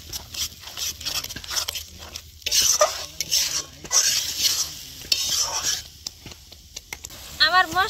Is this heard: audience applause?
no